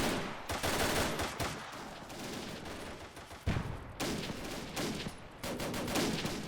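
Bursts of gunfire crackle through a World War II firefight in a strategy video game, with dense, repeated volleys and rapid rifle and machine-gun fire that drop out briefly before resuming.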